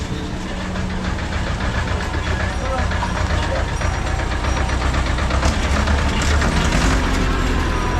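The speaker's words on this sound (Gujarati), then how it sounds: "આ બીજું ટ્રેક્ટર આવ્યું." A loaded goods tractor's diesel engine chugs and knocks steadily nearby on the mountain route up to Kedarnath, a loud continuous rumble with some voices mixed in.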